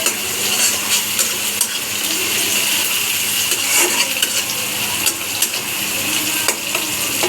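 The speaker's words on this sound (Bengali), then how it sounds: "লাড়াচাড়া দিয়ে ভাজা ভাজা করবেন" Noodle ingredients, browning onions before tomato goes in for Singara-style noodles, sizzle loudly and steadily in a hot pan. A spoon scrapes and stirs in quick irregular strokes with light metallic clinks.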